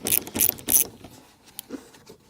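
A few quick metallic ratcheting clicks in short bursts, close up, as a hose clip screw spins uselessly on a Rover 75 cooling hose, followed by fainter scraping and ticking as it turns.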